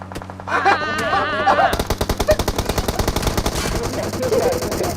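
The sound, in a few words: gunfire in video game PUBG Mobile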